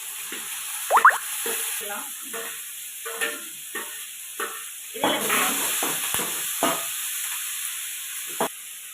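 Curry leaves, onion and tomato sizzle in hot oil for an eggplant stir-fry, a steady frying hiss broken by irregular spatula scrapes and stirring clatters, close to the pan.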